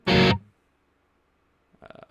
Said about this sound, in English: I'm just going to switch to a distortion channel here